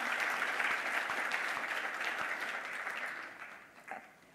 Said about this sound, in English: Give her a clap again.